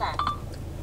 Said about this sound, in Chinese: 准备打给王彦龙的联通号码，如果不正确，您可以说取消